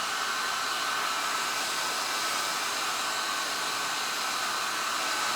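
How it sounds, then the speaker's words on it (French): A hair dryer runs steadily and loudly at close range, blowing air continuously as it dries hair, with no talking over it. "Là, on va peut-être bien sécher partout."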